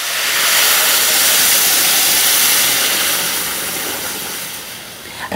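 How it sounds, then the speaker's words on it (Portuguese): A steady broadband rush of water poured into a rice pot, loud and close, tapering slightly toward the end with no voices. "Agora a gente já pode colocar a água."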